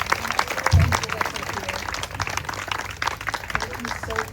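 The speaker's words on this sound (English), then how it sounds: "Let's give a round of applause for the phenomenal." An audience at a Juneteenth celebration claps for a panel of five graduating seniors, a mix of scattered hands and crowd noise with voices talking over it throughout.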